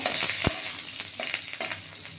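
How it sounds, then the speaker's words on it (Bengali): Fried garlic, ginger and chickpeas stirred in a pan for a coconut chutney, a soft sizzle with a few scraping strokes of the spoon, close and fairly quiet. "রসুন এই আদা আর এই ছোলা ভাজাটা সব নেড়ে দিলাম"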